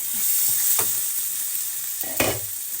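Carrots and spring onion stir-fry in a pan for a seafood dish, a continuous hiss of frying broken by a couple of sharp spatula scrapes and stirring clacks.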